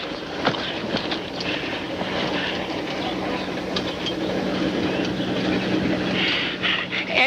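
A mail train rolling along with a steady rumble, low engine hum and occasional rattling clicks from the cars, fairly close and continuous.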